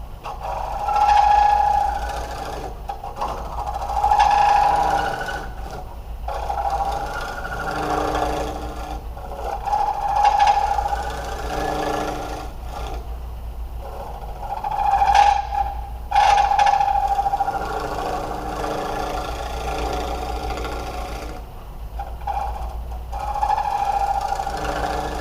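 A wood lathe turns a workpiece with a tool braced on the tool rest, giving a steady whirring hum with rising and falling scraping bursts as the tool cuts, and no talking.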